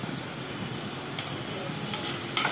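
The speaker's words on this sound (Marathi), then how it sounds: "चांगलं परतून घ्यायचं आहे." Dried bombil fish chutney sautéed in a pan, giving a steady hiss and sizzle throughout with faint stirring scrapes, close and continuous.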